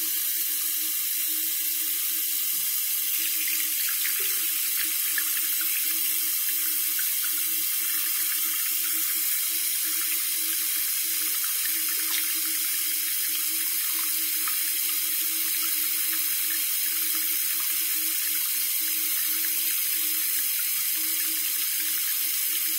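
Water runs steadily from the hot tap of a faucet into a sink in a home with no hot water, a constant, even splashing hiss that lasts the whole time with no talking.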